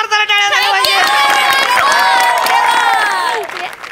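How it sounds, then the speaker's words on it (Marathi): A comedy show audience claps and cheers loudly. Excited voices and shouts ride over the clapping throughout and fade toward the end. "जोरदार टाळ्या झाल्या"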